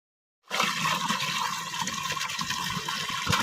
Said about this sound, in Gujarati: તમે જોઈ શકો છો કે મોટર કેટલું પાડે છે